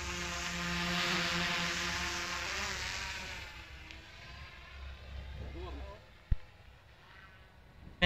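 A DJI Mavic 2 Pro drone buzzes with a high whine as it flies toward a person, loud at first and then fading, with speech over it and a sharp knock near the end.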